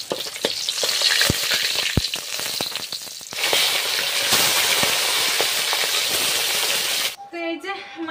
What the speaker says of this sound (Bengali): আর বাকি মাছ যেগুলো আছে সেগুলো এক এক করে এইভাবে ভেজে নেব।